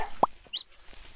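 Short clucks from chickens in a Minecraft-like game pop up against a busy background, a couple of brief bird calls in under two seconds with no speech.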